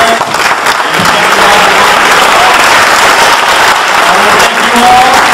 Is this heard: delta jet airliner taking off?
no